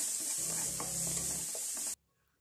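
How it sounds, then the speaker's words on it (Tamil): Chopped onions sizzle and get stirred in a pan with fennel seeds, a steady close frying hiss with soft scraping that cuts off abruptly after about two seconds. "ஆட் பண்ணி இதை வந்து நல்லா வதக்கிக்கலாம்."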